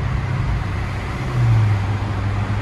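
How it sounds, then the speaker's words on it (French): Dodge Challenger R/T widebody's 6.4-litre V8 running loud and close inside a tunnel, a deep steady rumble that swells briefly midway before settling back. "Tu m'étonnes, ça gueule et tout, c'est incroyable. 6 litres 4 un frérot V8 c'est insane."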